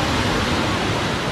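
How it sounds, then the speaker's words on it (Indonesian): Ocean surf at Ampenan beach on Lombok makes a loud, steady wash of crashing waves throughout. "Suara deburan ombaknya tuh."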